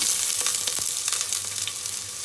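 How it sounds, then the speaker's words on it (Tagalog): Chopped onion sizzles in hot oil for arroz caldo, a bright continuous frying hiss with faint crackles, close and loud. "So, ilagay ko na yung sibuyas."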